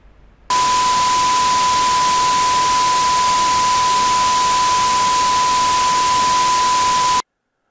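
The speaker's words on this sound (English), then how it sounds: "a 1 kHz tone mixed with the white noise" A steady pure 1 kHz tone sits inside a loud hiss of white noise at the same RMS level, starting abruptly and cutting off after about seven seconds.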